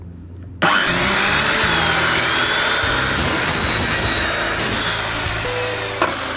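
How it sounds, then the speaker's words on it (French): Jigsaw cutting through a small protruding piece of wood: after a brief quiet moment the motor kicks in with a loud, steady, rasping buzz that continues unbroken to the end. "je suis passé carrément à la scie sauteuse"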